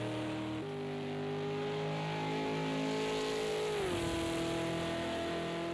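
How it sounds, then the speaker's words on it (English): Simulated V8 Supercar engine in a racing game at the Nurburgring, a steady droning roar held at high revs with a sudden pitch drop near the end as the car shifts or lifts, continuous and fairly loud with no talk. "his car doesn't sound too good, does it?"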